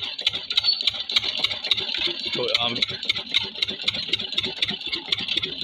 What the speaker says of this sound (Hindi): तो अब ये इसको दोबारा स्टार्ट कर रहे हैं इंजन को